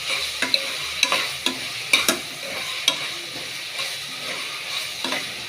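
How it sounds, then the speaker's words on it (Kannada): Vegetables with turmeric, tomato and capsicum sizzle in a pan while a spatula stirs and scrapes at intervals, giving a steady close fry broken by several sharp clicks and scrapes. "ಸ್ವಲ್ಪ ಅರಿಶಿನ, ಹಾಕಿ ಚೆನ್ನಾಗಿ ಬಾಡಿಸ್ಕೊಳ್ಳಿ"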